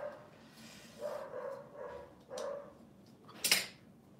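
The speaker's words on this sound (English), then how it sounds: "Barking downstairs." A dog barks downstairs in a home, several distant muffled barks spaced over a few seconds, ending in one sharper, louder bark.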